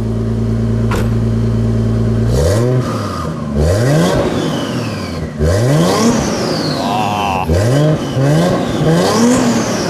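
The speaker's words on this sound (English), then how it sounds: "Couple of little revs." A twin-turbo Toyota Soarer engine idles then revs repeatedly in sharp bursts, rising and falling in pitch, loud and close with a turbo-like whine.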